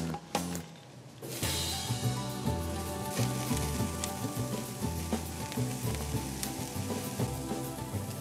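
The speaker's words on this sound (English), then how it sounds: "a little oil, salt and pepper. Mix them together. Let's get them on the grill." Serrano chilies, garlic and other vegetables tossed with oil, salt and pepper sizzle on a hot grill, a loud steady crackling hiss that starts abruptly and continues with no talking.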